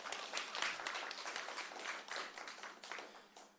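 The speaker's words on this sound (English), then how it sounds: "Yes, you can give that a round of applause." Faint applause from the audience at a Jamaica Council for Persons with Disabilities panel discussion, a soft, diffuse patter of many hands clapping that stays steady and distant throughout.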